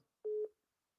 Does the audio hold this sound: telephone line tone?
yes